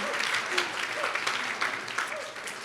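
Wedding guests clapping during a reception toast, a steady crowd applause of moderate loudness with faint voices and cheers mixed underneath.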